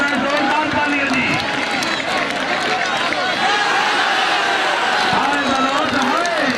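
At an outdoor kabaddi match in Qaim Nagar, Bhowana, Jhang, Punjab, a loud crowd claps and cheers continuously, with a thick wash of chatter and shouting voices throughout.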